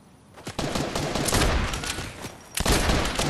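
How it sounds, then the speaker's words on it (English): Video-game gunfire from shooters up on a hill: a sustained, dense burst of rapid shots close by, followed by a fresh loud volley near the end. "I'm being shot at, so they're up on the hill."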